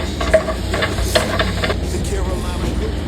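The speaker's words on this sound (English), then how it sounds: "now I'm gonna begin to saute on my onions before adding the ground beef" White onions and minced garlic sautéing in a little cooking oil in a pan, a steady close sizzle with a few sharp clinks of a utensil stirring through it.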